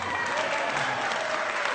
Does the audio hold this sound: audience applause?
yes